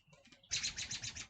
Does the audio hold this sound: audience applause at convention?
no